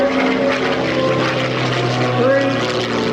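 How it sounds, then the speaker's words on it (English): Propeller aircraft performing a four-point roll at a 1994 air show in Frederick, Maryland: a steady loud engine drone with a droning propeller hum and a shifting pitch, continuous throughout, with a commentator's voice talking over it. "Watch now as Reg does the 4-point roll as he positions the aircraft nose up"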